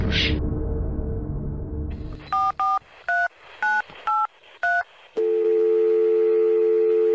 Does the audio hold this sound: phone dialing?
yes